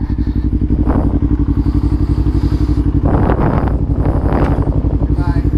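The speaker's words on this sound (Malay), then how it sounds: "hari ni aku nak test motor Ivan." A motorcycle engine, a new R35 V2, runs close and loud, its rapid throbbing pulse steady, with a couple of revs rising over the idle.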